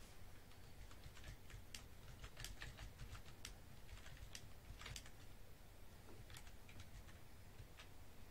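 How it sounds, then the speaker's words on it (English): Rapid clicking of a computer keyboard being typed on nearby, quiet and irregular in bursts over a low steady background hum, with no speech. "Let me just type it in."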